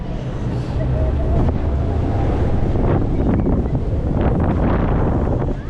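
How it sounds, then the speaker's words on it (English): Strong wind at the Flamingo Land theme park roars across the microphone in a loud, constant buffeting rush, with a voice faintly heard beneath it. "Windy!"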